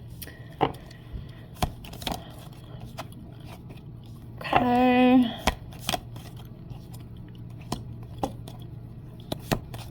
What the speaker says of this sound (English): I'm going to try to just shuffle these out.